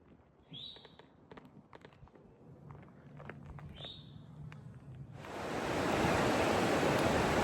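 Along a hiking trail lunch spot beside a river, scattered footsteps and light rustling give way to a loud, steady rush of flowing water that fills the second half.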